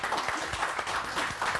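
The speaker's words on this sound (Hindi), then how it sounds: "तालियां" Studio audience applause on a Pakistani morning TV show during a women's dough-kneading contest, a short steady patter of claps at moderate level with faint voices underneath.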